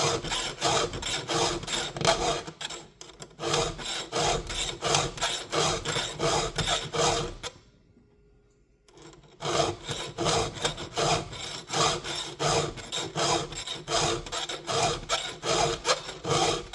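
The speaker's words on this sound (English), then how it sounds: "Rotate the file a little bit." A hand file rasps across chainsaw chain teeth in quick, steady back-and-forth strokes, loud and close, with a brief pause midway before the rhythmic filing resumes.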